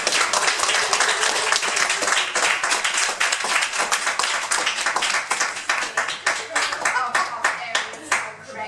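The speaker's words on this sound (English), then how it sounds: "Give yourself a round of applause." A room full of attendees at a public speaking club evaluation session claps steadily and loudly for several seconds, a thick even wash of hand claps with individual sharper claps standing out toward the end.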